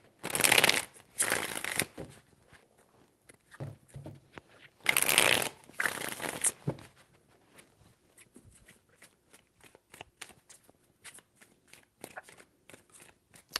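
A deck of tarot cards is shuffled in two quick riffling bursts close by, followed by lighter taps and card handling.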